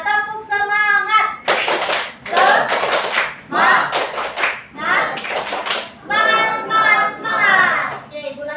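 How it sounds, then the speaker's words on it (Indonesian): Schoolchildren in a classroom perform the rhythmic 'tepuk semangat' clapping routine, loud bursts of patterned claps alternating with their group chanting voices. "Oke, kita tepuk semangat."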